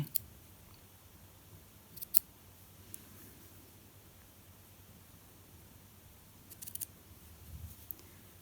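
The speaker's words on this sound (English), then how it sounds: "just using the tip of my scissors a little bit at a time, and holding those stitches apart with my hand that's underneath" Scissor tips cut through the knitted stitches of a cardigan steek, making a few faint, crisp snips spread apart in a quiet room.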